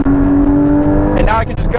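Porsche GT4 engine blipping automatically on a fourth-to-second downshift, a steady loud drone that rises sharply into a rev-matched flare near the end, heard close inside the cabin.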